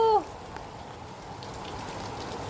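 Rain patters in a steady soft wash across a surface, with a brief tonal chirp at the start before the rainfall continues evenly.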